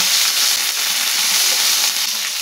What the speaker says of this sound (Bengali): ফোড়নেতে কড়ি পাতা দিয়ে দেবো।